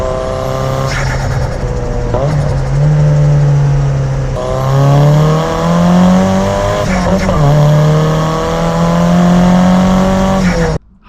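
A Nissan Silvia PS13 with a Fujitsubo muffler revs loudly and close, its exhaust note climbing and dropping through several throttle blips, with a few sharp shifts and a sudden cutoff near the end.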